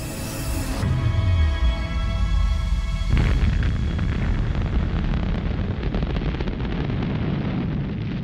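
An atomic bomb bursts over Nagasaki at 1,650 feet, a heavy deep boom followed by a long rumbling roar that fills the rest of the clip, loud with no voices.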